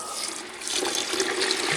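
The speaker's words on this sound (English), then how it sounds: "I'm going to add water. This is hot water" Hot water pours steadily into a Thumlers Tumbler Model B rotary tumbler loaded with stainless steel media for cleaning brass cartridge cases, giving a continuous close splashing rush.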